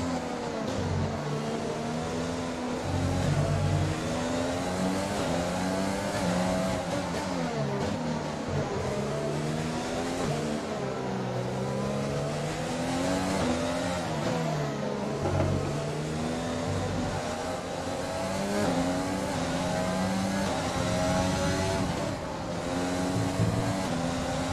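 A Formula 1 car engine in the F1 2020 racing game at Singapore whines continuously at high revs, rising and falling through gear changes over a steady loud drone, with no talking.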